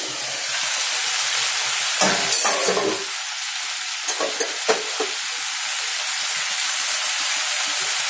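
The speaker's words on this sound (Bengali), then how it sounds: "ততক্ষণ পর্যন্ত এটা নাড়া দেবো।" Khichuri being stirred in a cooking pot, a steady wet sizzle with scraping bursts from the spoon at intervals, loud and close, with no voices.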